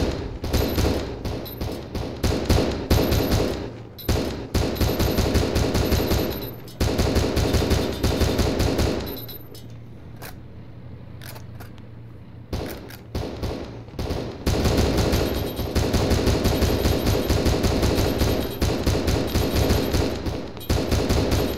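Heavy automatic gunfire in the military shooter Arma 3, dense bursts rattling for long stretches close by, broken by a brief lull before the firing resumes, with no talk over it.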